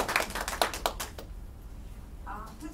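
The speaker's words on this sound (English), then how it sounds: "So I clap again for all the other poets we read, really." A brief burst of clapping at a poetry reading that fades out within about a second, followed by quiet room tone and a faint voice.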